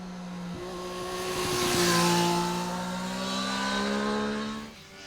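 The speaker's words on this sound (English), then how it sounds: "as you can hear that beautiful triple cylinder engine howl over yonder" A 2024 Triumph Street Triple 765 triple-cylinder motorcycle engine howls and revs at a moderate distance, a steady harmonic drone that swells and eases over about five seconds, with no talking.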